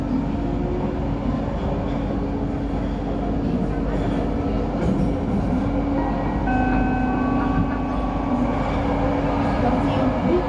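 LRT Jabodebek light rail train on the Bekasi Line running toward Dukuh Atas, a steady loud rumble and hum throughout with faint tonal whines joining later, and speech heard over the noise.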